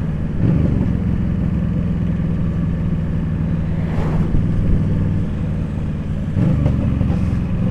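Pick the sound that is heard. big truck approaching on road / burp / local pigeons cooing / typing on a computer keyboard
big truck approaching on road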